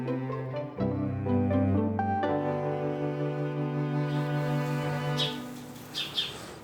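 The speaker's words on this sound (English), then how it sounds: "Yeah, I love those birds." Birds sing outside a window, their bright chirps rising near the end over a sustained tonal musical background that fades away.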